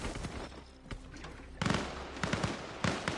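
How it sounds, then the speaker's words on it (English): Gunfire crackles close by in Arma Reforger on PS5, a handful of sharp, loud shots and short bursts standing out over quieter background noise. "Ooh, and gunshots close."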